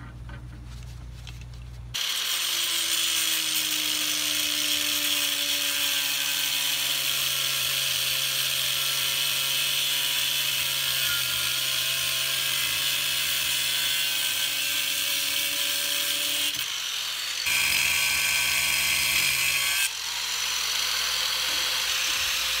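A chop saw cuts through threaded all-thread rod: after a short spin-up, a loud, sustained whining grind runs for about fifteen seconds, then a brief pause and a second shorter cut follow.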